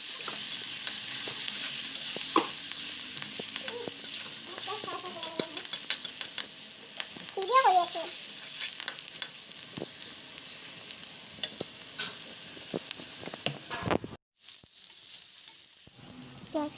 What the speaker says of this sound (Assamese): আৰু ইফালে আমাৰ তেল গৰম হৈ আছে, তাতে মই পেলাই দিলোঁ পিঁয়াজখিনি